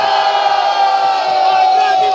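A live audience at a Puglia semifinal competition roars and shouts loudly in one continuous wall of crowd noise, with whoops and yells rising throughout.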